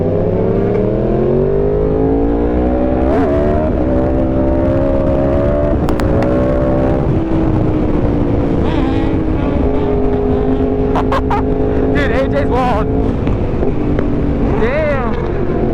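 A superbike's engine revs and accelerates near a car meet, its loud pitch sweeping up and falling as it pulls away, with heavy wind rumble on the microphone and occasional voices.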